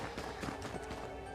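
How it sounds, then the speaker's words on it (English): An ice horse in Dragon Quest XI trots with quick, rhythmic hoofbeats, a short, steady run of clops heard close against background game sound. "There's an ice horse."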